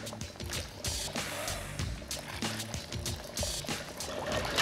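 Clam cooking liquid is poured through a cheesecloth-lined colander, a continuous splashing, trickling flow over several seconds with a tonal background bed beneath it.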